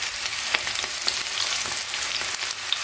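Garlic sizzles loudly in hot oil in a pan, a dense, close, continuous hiss of frying with faint crackles and a few soft stirring taps, and no voices.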